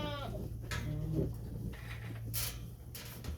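Goats bleat on a farm, one drawn-out call at the start followed by shorter, fainter bleats against a low steady hum, with no talking.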